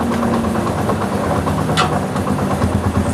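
A steady Honda CD70 motorcycle engine idles close by, a low continuous rumble with light mechanical vibration and no voices.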